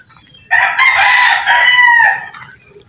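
A rooster among free-roaming chickens gives one loud, close crow lasting about a second and a half, strained and raspy, with faint clucking around it before and after.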